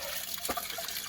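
Water draining from a cabin water filter, a faint trickle and splash with a brief louder gush around the middle, heard alone.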